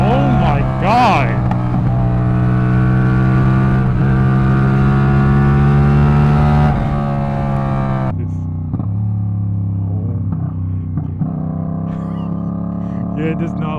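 A straight-piped 450 motorcycle revving hard and high for several seconds, loud and raspy up close, then dropping to a rougher, lower idle with blips of throttle.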